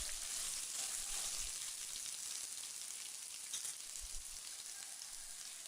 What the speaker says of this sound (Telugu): అల్లం ముక్కలు కొంచెం పచ్చివాసన పోయే వరకు ఒక 5 నిమిషాలు వేపుకోవాలి